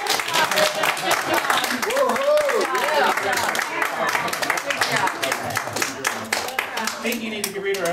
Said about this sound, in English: I think you need to give Rita a much bigger round of applause than that.